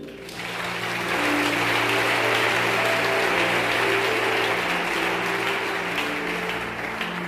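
A church congregation applauds its Bible together, sustained clapping swelling in after a brief lead-in and holding steady and loud, with a faint musical tone underneath.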